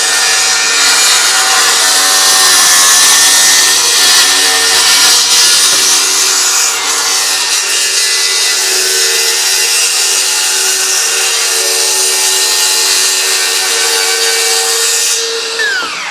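A power saw rips along the edge of wooden boards for a workbench top, a loud, sustained, close cutting whine that holds steady for most of the run and then winds down at the end.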